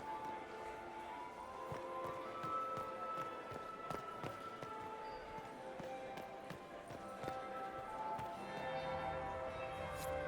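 In Dragon Age: Inquisition, a bell rings at a crowded party, clear resonant tones sounding repeatedly over a busy murmur of guests and footsteps.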